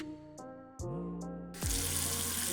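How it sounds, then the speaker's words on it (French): A household water tap is turned on after a few tonal notes, and a steady, loud gush of running water fills the final second, close and alone. "On dirait un robinet pour le jus de baie."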